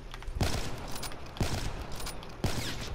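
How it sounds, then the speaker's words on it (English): Rapid video game gunfire in a 1v1 match, three loud bursts of automatic fire spaced about a second apart, close and dominant. "Shots fired."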